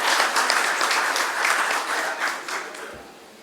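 Seminar audience at a national seminar on narcotics law enforcement breaks into steady applause after a host's rhyme, a dense clapping wash that fades toward the end.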